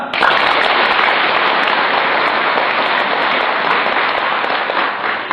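An audience at a religious gathering claps throughout, a continuous, rain-like patter of many hands that stays loud and even, with no talking over it.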